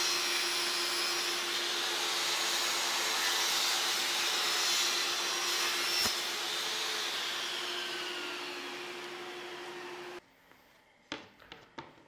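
A saw machine cutting a plexiglass rectangle: a loud, steady, high whining drone with a constant hum that runs for about ten seconds, then stops abruptly, leaving a few faint clicks and knocks.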